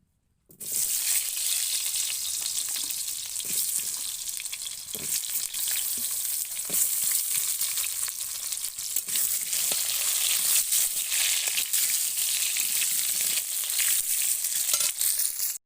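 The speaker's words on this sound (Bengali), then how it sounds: "আলু কটা আগে ভেজে নেব" Potatoes fry in hot mustard oil, a dense, loud, even sizzle that starts abruptly after a brief silence and holds steady, with faint stirring knocks and no one speaking.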